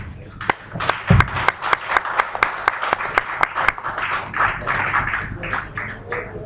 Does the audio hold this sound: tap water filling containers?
no